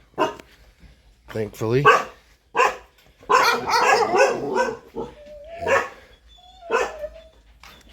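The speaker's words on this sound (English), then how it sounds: "There's the 6 dogs that are Goy's dogs that sister takes care of" Several dogs bark and yip in sharp bursts around a Thai-style country house, near and loud, with someone talking between the barks and some whimpering.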